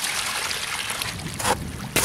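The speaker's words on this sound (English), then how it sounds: "Then we add the water." Water is poured into a bucket of dry masonry sand and Portland mortar mix, making a close, loud splashing trickle with a couple of heavier gushes and no talk.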